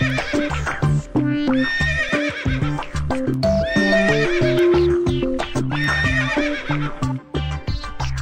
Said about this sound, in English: Get your horses, jump on hurdles, and giddy up your horses.